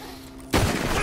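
A single loud, close gunshot in Red Dead Redemption 2, bursting abruptly halfway through after a quiet lead-in and ringing out to the end.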